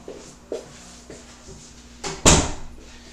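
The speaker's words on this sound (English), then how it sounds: "I'm going to shut my door" A room door is pushed shut, with a few soft bumps and handling knocks leading to one firmer closing thud near the end, heard close by in a quiet room.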